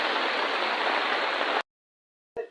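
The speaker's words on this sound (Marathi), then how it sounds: "बरेच दिवसांनी 4 दिवसांनी पाऊस पडत आहे" Rain falls on a rural village in a steady, loud broadband hiss for about a second and a half, then cuts to silence before a brief burst returns at the end.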